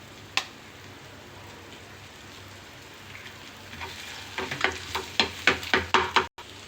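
Vegetables and egg frying in a pan, with a steady faint sizzle and a run of sharp crackling pops that grows louder toward the end.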